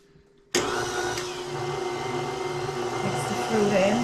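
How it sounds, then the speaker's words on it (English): Electric whisk mixing batter for a Guyanese black Christmas rum fruit wedding cake, a steady whirring motor that starts abruptly and runs continuously at close range, pitch wavering slightly toward the end. "So we're gonna whisk that away."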